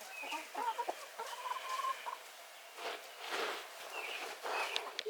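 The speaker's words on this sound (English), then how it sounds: "the other chicken's pecking the egg yolk off her beak" Several backyard chickens cluck softly and repeatedly nearby, a low murmuring stream of clucks with faint rustling and scratching as one pecks egg yolk off another's beak.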